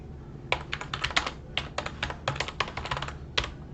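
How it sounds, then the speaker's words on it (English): Fingers type a message on a computer keyboard, giving quick, irregular bursts of close, crisp key clicks with short pauses between runs; no talking. "you then type in a message"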